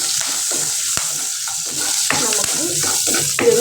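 Shallots and curry leaves frying in a pan with garlic, a loud steady sizzle close by, broken by the scrape and clatter of stirring.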